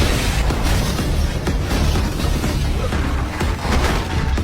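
An explosion from a spy film: a loud, dense, continuous roar of blasts and rumbling, filling the whole clip with repeated sharp bursts and no talk.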